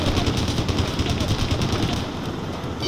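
Sustained machine gun fire in a war video game, a dense continuous burst of rapid shots holding loud and close for nearly the whole stretch before easing slightly near the end.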